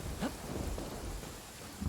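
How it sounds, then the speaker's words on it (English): Rain and rolling thunder in the Genshin Impact video game, a steady hiss of rainfall with low thunder rumbles, fairly quiet and with no voices. "I'll lend you my coat. It's raining."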